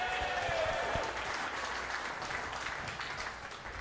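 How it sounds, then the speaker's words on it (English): Wedding guests applaud the groom's parents at a reception, a loud, dense wash of clapping from a sizable crowd that holds steady and fades slightly toward the end. "Let's give them a round of applause."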